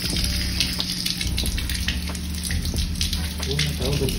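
Water poured over a hoodie covered in ice and dye, a steady gushing splash running the whole time at close range, with faint voices underneath.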